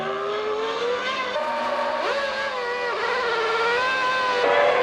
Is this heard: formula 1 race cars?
yes